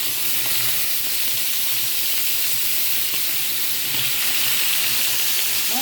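Fish fries in a pan of hot oil for escabeche, giving a dense, loud, unbroken sizzle and hiss that stays even throughout, close up, with no voices.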